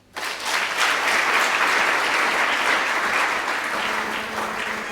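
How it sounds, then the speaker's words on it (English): An audience at a university campus grand opening breaks into applause, a sudden full burst of steady, dense clapping that holds strongly for several seconds and tapers only slightly. "Let's give him a clap offering."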